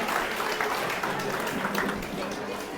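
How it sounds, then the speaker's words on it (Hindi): Audience at a Mansoori Teli community talent award ceremony in Sikar applauding to welcome a student, dense sustained clapping from a crowd, loud and close, with a voice faintly under it. "इसका जोरदार तालियों से हार्दिक इस्तकबाल करें"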